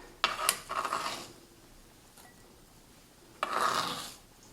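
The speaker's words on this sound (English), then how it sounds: "So I'm stirring this in." Chopped onion is stirred into tomato for pico de gallo salsa in a bowl, heard as two close bursts of rasping, scraping strokes separated by a quiet pause, with no talking.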